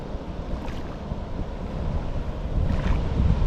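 Strong wind gusting across a riverbank outdoors, a steady low roar that swells louder toward the end, buffeting the microphone with rumbling wind noise and no voices.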